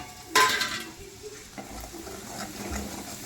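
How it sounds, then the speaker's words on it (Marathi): Spices tipped into hot oil for a paneer curry hiss in a sudden loud sizzle, which fades into quieter frying and stirring in the pan. No one speaks. "तेलात मसाले टाकले ना कलर छान येतो"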